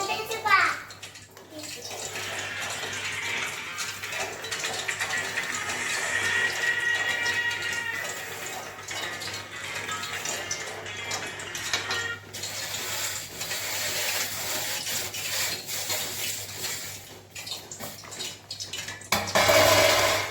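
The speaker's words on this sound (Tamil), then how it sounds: "இப்ப நல்லா கொதிக்குது." Water boils in a pot for making kesari, a steady bubbling hiss with occasional utensil clinks, fairly close and continuous.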